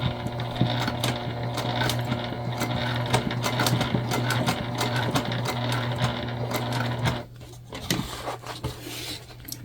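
Sewing machine with a walking foot stitching a tote bag, a fast steady mechanical hum with rapid needle clatter, close up, pausing briefly near the end before restarting.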